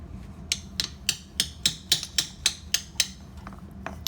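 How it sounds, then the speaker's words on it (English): Light hammer taps on a bolt of a Yamaha V-Star 1100 motorcycle during an oil change, about a dozen sharp metallic clinks in a quick, fairly even rhythm, close and clear over quiet background. "I'm going to give it just a light tap of the hammer, right, really light"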